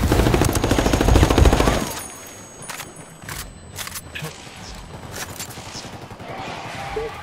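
Automatic gunfire crackles in Ghost Recon Wildlands, opening with a loud, dense burst of rapid shots. After that come scattered single cracks and short volleys, mixed with softer clatter.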